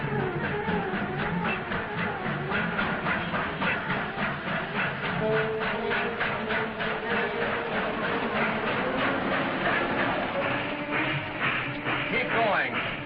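A steam train runs on rails, its steady rhythmic clickety-clack continuing throughout at a constant pace, with voices talking over it.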